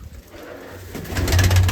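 A pigeon coos close by, a low soft throaty call swelling near the end after a quieter start.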